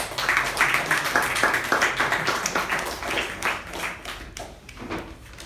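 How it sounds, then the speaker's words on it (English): Audience applause for Toastmaster Jyothi Rao at a Toastmasters meeting, a dense round of clapping from a room of people that stays steady and close before tapering off slightly near the end. "Please help me welcome Toastmaster Jyothi Rao with a huge round of applause"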